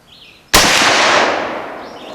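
A single loud, sharp rifle shot from a Marlin Guide lever-action chambered in .45-70 cracks out during sighting in at a range, followed by a long, slowly fading echo; birds chirp faintly before it.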